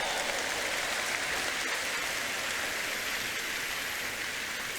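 A church congregation cheers and applauds, a dense, steady wash of clapping and voices that fills the room at moderate level without break.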